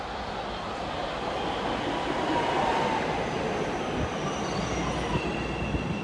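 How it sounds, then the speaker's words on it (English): A train passes close by, a continuous broadband roar of rolling wheels and rail noise with faint squealing, steady and loud throughout without speech. "I don't know if you can hear me over the train,"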